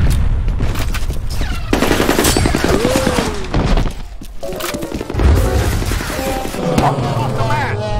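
Gunfire from the video game F.E.A.R. Combat: loud, dense bursts of automatic fire and sharp impacts packed together, with brief game voice calls mixed in among the shots.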